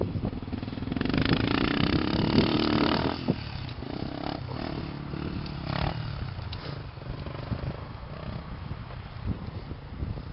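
Motocross motorcycle engine revving on an arena cross dirt track, a steady loud engine drone that swells and rises in the first few seconds, then settles into a continuous rougher running note with no talking.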